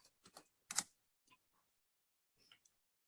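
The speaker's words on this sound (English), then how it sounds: "So I'm going to type our command sudo" Short bursts of keystrokes on a computer keyboard while a command is entered into a terminal, a few quick clusters of clicks with a pause in the middle, close and fairly quiet.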